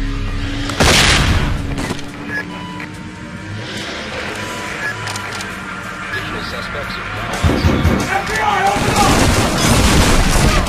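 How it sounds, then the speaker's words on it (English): Flashbang bursts and gunfire in the SWAT 4 video game, a sharp loud blast early on followed by scattered shots and booms, with voices talking throughout. "flashbang."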